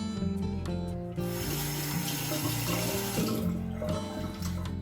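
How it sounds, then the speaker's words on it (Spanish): Water runs steadily from a tap onto hands, splashing continuously at close range with a slight shift in tone as the palms move under the stream. "Nos vamos a mojar las palmas de las manos con poca agua."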